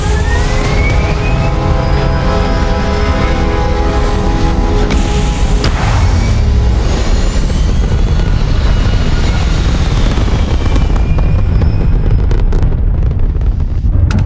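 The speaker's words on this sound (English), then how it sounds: "All thrusters firing." Spaceship thrusters firing in Starfield, a loud, steady, unbroken engine roar like a jet or helicopter, dense and rumbling throughout, with a rising whine at the start and a brief surge near the middle.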